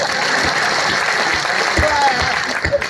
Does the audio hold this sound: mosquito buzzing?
no